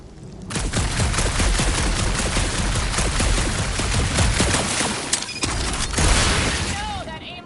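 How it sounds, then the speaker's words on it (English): Dense, nonstop video game gunfire fills the clip with rapid bursts and booming impacts at close range. The barrage stays loud throughout, dips briefly near the end, then resumes. "that aimless shooting isn't gonna scare the monsters away"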